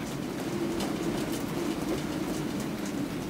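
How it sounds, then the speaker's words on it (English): Strong night wind rattles the rigging of a sailboat at anchor while sheltering from a tropical cyclone, a steady dense roar with faint flutters and knocks, continuous and close, no voices. "the wind has picked up, and it's picked up pretty hard"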